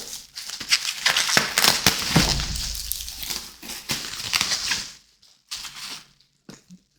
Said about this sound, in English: Let's get rid of some bubble wrap.